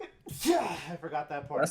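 A single sharp sneeze bursts out close by, followed by a short spoken remark from one person.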